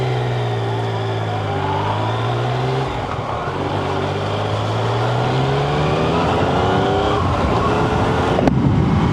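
A Yamaha XSR900 motorcycle accelerating on the road, its engine note climbing steadily through the revs, loud and close with wind rush throughout.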